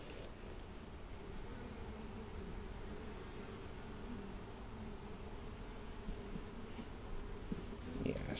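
Honeybees buzzing steadily during a hive inspection, a dense continuous hum close by with light rustling of comb and frames, no talk.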